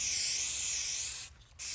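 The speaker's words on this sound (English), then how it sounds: "you take the spray paint while it's still wet" Aerosol spray paint hisses in a steady continuous burst onto wet glass for a mercury-glass candle holder, loud and close, with a brief pause before spraying resumes.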